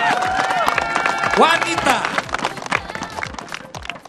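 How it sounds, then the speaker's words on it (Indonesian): Crowd applause with some cheering at an outdoor athletics event, celebrating the runner-up of the women's 100 metre sprint, with an announcer speaking over the clapping throughout. "tepuk tangan dulu untuk runner up 100 meter perempuan"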